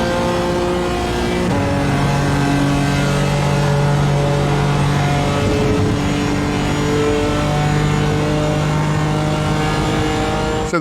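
A BMW M4 GT4 race car in the iRacing simulator runs flat out at Watkins Glen, its engine a loud, steady high-revving drone with gear-shift steps in pitch, continuous for the whole stretch with no voices.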